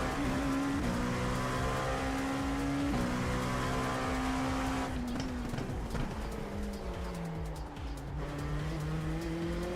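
An LMP2 prototype race car in the iRacing sim drones continuously through its gears, with a loud engine tone rising and falling and tyre noise throughout, with no talking.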